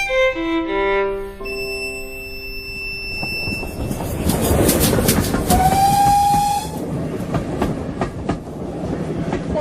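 A train rolls along the rails with a steady rumbling clatter, and a whistle sounds briefly midway over the continuous rail noise, played as an audio drama sound effect with no talking.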